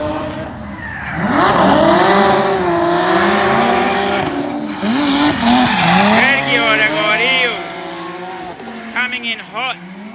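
A drift car at a Cyprus drift championship practice session skids through the zones at too much angle, tires squealing in long wavering howls over engine roar, loud and close, with an announcer talking over it.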